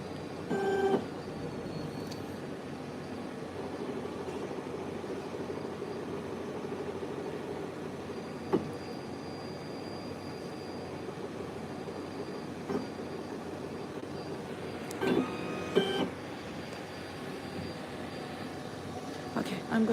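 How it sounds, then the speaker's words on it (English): A CEREC CAD-CAM dental milling machine cutting an Emax crown gives a low, steady hum with faint whine and occasional brief clicks, quiet in a room with people talking. "the machine is being ready, and it's going to start cutting the crown off."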